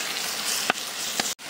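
Marinated chicken sizzles in a hot pot with a steady hiss of frying, broken by a couple of brief louder spatters, ending with a momentary drop.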